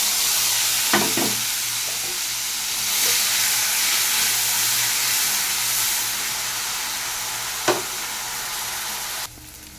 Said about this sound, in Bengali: এই তেলে দিয়ে দেবো হাফ চামচ কালো জিরে, সঙ্গে দিয়ে দিচ্ছি পেঁয়াজ বাটাটা